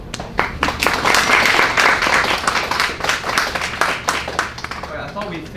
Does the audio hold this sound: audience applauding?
yes